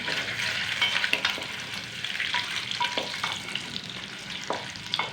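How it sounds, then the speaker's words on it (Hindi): Potatoes and eggs shallow-frying with whole cloves, cinnamon and green cardamom make a steady close sizzle and crackle, broken by a few sharp spits and stirring clinks, with no talking. "अंडों को, आलू को हल्का हल्का सा फ्राई कर रही हूँ।"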